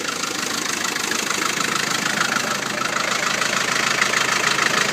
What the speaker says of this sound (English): which means the engine's running a bit slow